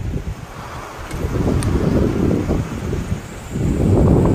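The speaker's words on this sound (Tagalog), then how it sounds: "yung lakas ng hangin at ulan na dala na ito." Steady gusting wind roars against the microphone with a constant wash of rain, rising and falling in strength, during Typhoon Nika in Isabela Province, Philippines.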